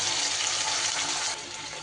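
Tap water runs steadily as a mixer grinder jar is rinsed out while cooking a mashed teasel gourd dish, a continuous close splashing rush that eases slightly near the end, with no talking.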